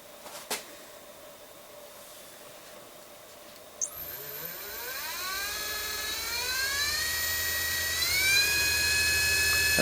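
Rivett 608 traverse milling attachment spinning up to its maximum of 1500 rpm: after a couple of faint clicks, a motor whine starts and climbs steadily in pitch and loudness into a high, sustained whirring scream.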